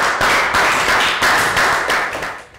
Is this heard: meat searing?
no